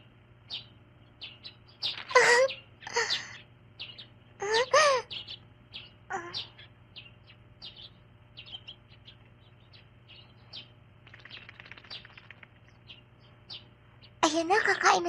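Birds in an animated series chirp in short, bright bursts scattered over a steady low hum. A clustered flurry of calls comes near the end, moderately loud against the quiet background.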